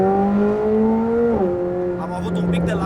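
McLaren 765LT Spyder accelerating hard in comfort mode, a loud steady engine drone that climbs in pitch, dips at a gear change, then keeps pulling while someone talks over it.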